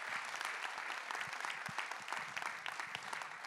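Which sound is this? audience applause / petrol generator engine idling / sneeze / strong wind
audience applause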